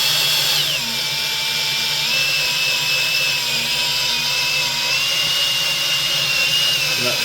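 A Ford EB XR8 V8 engine cranked over at full throttle, a steady loud whirring drone with a high whine running unbroken throughout, close up.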